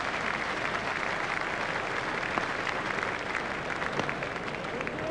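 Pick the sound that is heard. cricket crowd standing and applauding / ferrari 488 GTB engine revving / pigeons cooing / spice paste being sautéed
cricket crowd standing and applauding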